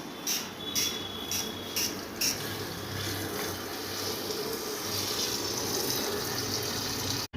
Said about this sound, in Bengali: এরপর এর মধ্যে জল মেশাবো